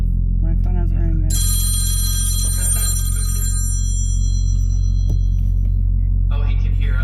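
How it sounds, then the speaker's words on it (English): A telephone rings with a bright, sustained electronic tone for a couple of seconds, starting after some background talk over a steady low hum, then fading as voices return. "My phone has ringing."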